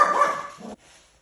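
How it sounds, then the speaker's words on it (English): A dog barks sharply at a delivery, one loud close bark with a whiny edge, then a short lower yelp before silence. "we got another delivery and the dogs went wappy again"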